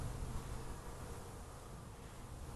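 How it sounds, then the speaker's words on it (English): Honey bees at a hive entrance with an entrance reducer make a steady, close, continuous buzzing hum with no voices. "what we have here are, I believe, are the scout bees returning"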